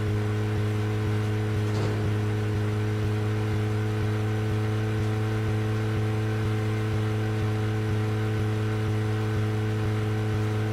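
A steady, droning car engine in the video game Deadly Premonition hums at a constant pitch as the vehicle cruises, with a brief faint click partway through.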